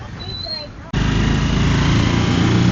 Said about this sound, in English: All right, I got in the tuk-tuk.